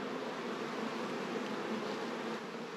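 Honeybees buzz in a dense, steady swarm as they are shaken off a drone comb frame at a hive, a soft, even hum with no voices.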